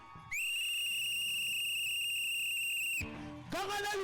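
Whistles blown at a church deliverance seminar: one long, loud, steady shrill blast held for several seconds, then a brief pause and another piercing whistle starting at the end, over crowd noise.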